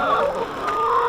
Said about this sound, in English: And all my little egg layers in here.